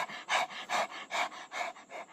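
A person imitates a tired dog panting, with about five quick, rhythmic, breathy huffs at an even pace, close and fairly soft.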